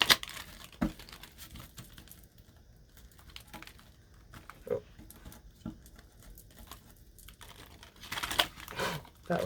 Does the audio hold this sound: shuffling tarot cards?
yes